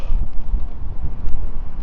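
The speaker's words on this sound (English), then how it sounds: "It's quite windy now." Gusty wind buffets the microphone outdoors while fish and chips are unwrapped, a steady low rumble that swells and dips throughout, with no voices.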